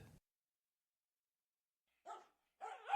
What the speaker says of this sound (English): Your focus is broken by playful barking.